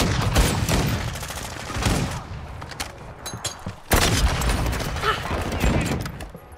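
Sniper shots in a fast-paced online shooter game, loud booming reports and rapid gunfire bursts layered over continuous game effects, with a sharp new volley partway through.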